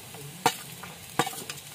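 Ginger, garlic and green chili fry with browned onion in a pan, a soft steady sizzle under two sharp scrapes of a spoon stirring, close and fairly quiet.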